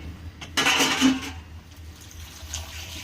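A cooking pot that held fish curry is rinsed with water: one short splash and gush lasting under a second, fairly quiet, then a faint trickle and low room noise.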